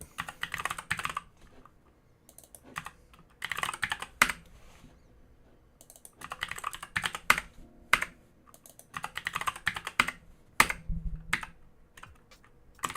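Typing on a computer keyboard with a faulty escape key, clattering bursts of keystrokes repeating in clusters with short pauses, close and alone.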